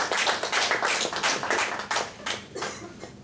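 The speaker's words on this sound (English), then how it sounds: "please have a big round of applause for Toastmaster Era" Members at an Infosys Toastmasters club meeting in Hyderabad clap in a short, lively round of applause that thins out and fades toward the end.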